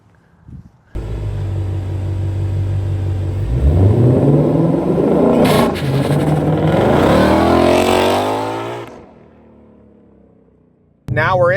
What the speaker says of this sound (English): Now we're inside the GT500, who we call the Predator because the awesome engine Ford put in the GT500.